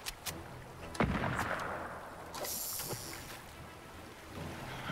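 Gunfire in Fortnite aimed at a shark in the water: sharp shots crack out at the start and again around the middle, mixed with rushing water and splashing surf, with no talking.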